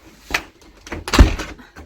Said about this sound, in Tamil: சரி கதவை முடிக்கலாம்